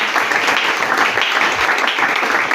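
A church congregation at a Sunday service bursts into applause, a dense and steady wash of many hands clapping together, loud and close, with no talking over it.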